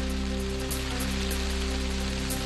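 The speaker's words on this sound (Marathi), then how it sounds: "अमरावतीच्या माधान इथं मुसळधार पावसाची हजेरी." Heavy monsoon rain pours down in Madhan, Amravati, Maharashtra, a steady dense hiss of falling water heard alone over a faint low hum.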